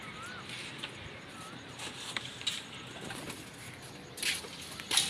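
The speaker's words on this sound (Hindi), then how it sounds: "ये है जी हमारे 7 कबूतर" Domestic racing pigeons kept by a fancier in Punjab, with soft, faint cooing and scattered bird calls over steady outdoor ambience, plus a few brief flutters and rustles near the end.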